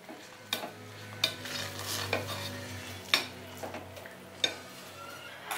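Ghee melting in a pan for sweet pongal is stirred with a spoon, giving soft periodic scrapes and light taps against the metal over a faint, low sizzle, close and quiet with no talking.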